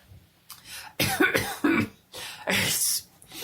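Several harsh coughs in quick bursts, close and fairly loud, with short pauses between fits.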